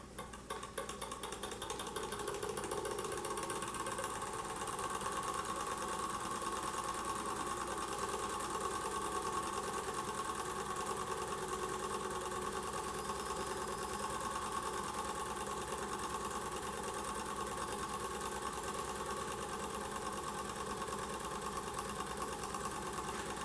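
A small Weeden No. 14 toy steam engine runs steadily on a table, giving a fast, even mechanical chatter and hum that carries on unbroken and fairly faint, with no talking.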